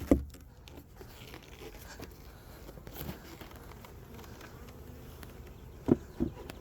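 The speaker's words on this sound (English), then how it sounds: "And these bees should be happy." Honeybees from a one-pound package in a newly installed hive hum in a faint, low, continuous buzz, with a few soft knocks and rustles near the start and end.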